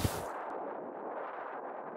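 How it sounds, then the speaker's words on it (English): A golden cannon fires in The Amazing Frog video game, one loud booming blast at the start followed by a sustained noisy rumble that fades slowly, with no voices. "Now I'm gonna try this golden cannon out."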